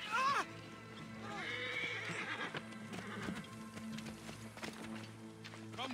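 A horse whinnies loudly at the start, followed by clip-clopping hooves and a busy game soundscape with music, in the video game Assassin's Creed Origins.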